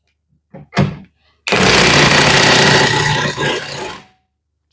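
A Parkside PASSP 20-Li C4 cordless impact wrench tightens a nut in a loud, sustained hammering rattle lasting about three seconds. A couple of short knocks come just before it starts.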